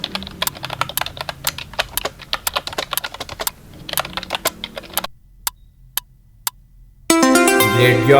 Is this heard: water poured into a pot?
no